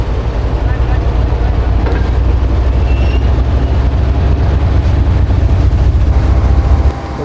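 Pak Business Express train at Karachi with GU40 locomotive 9053 attached, a loud, steady low diesel rumble and drone held throughout, close by and unbroken.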